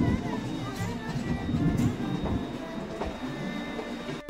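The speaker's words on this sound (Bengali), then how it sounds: "মালভিয়া ব্রিজ ক্রস করে আমাদের ট্রেন এখন প্রবেশ করছে উত্তরপ্রদেশ রাজ্যের কাশী স্টেশন" A passenger train rolls into Kashi station in Uttar Pradesh after crossing the Malviya bridge over the Ganges. A loud, steady rumble and rattle of wheels and carriages carries a few faint squeals, and a person talks over it.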